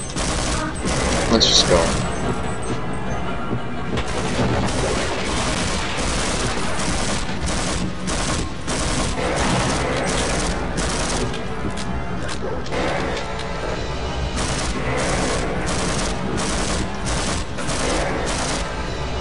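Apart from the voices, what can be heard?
gunfire from a gun in the video game Half-Life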